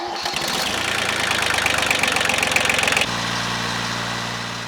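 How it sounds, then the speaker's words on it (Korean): An old tractor, around thirty years old with faulty electrical wiring, runs with a rough, rapid knocking engine beat that shifts to a steadier low idle partway through, close and continuous. "시동이 안 걸리던 고물 트랙터도 보물이 됩니다"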